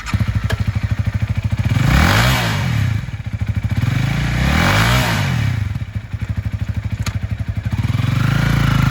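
A used 2017 Honda Rebel 300 lightweight cruiser motorcycle engine runs close by, its low rumbling idle rising in two revs before settling back.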